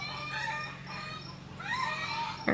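A rooster crows in a long, harmonic call that rises and falls, then a second crow begins near the end, all over a steady low hum, with no talking.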